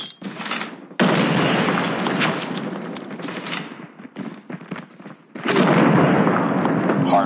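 Dense bursts of gunfire and blasts in a hardpoint match of a mobile shooter game, including a grenade going off, loud and layered with a brief gap before another heavy burst.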